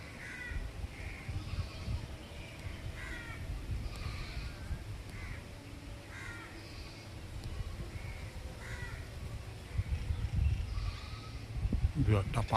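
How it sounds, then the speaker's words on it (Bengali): Outdoors on a hilly road in Port Blair, Andaman, a myna calls repeatedly from nearby under steady background noise, with a few other birds joining in. "দু একটা পাখির ডাক,"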